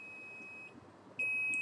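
A multimeter's continuity tester beeps while probing the VCC main capacitor at the backlight circuit input on a shorted iPhone 6 logic board, two steady high beeps separated by a short gap, clear and close with no talking.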